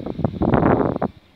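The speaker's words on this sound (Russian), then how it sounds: "так как на улице ветрено" Gusty outdoor wind buffets the microphone in a garden where petunia cuttings are being taken, coming in rough, rumbling bursts that swell in the middle and fade toward the end.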